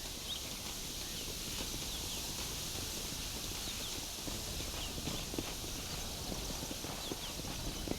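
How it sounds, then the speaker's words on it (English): Horse hooves clip-clop steadily on the ground in the Red Dead Redemption video game, a continuous faint patter of footfalls set against a constant background hiss, with no speech. "There should be some horses for us across the way."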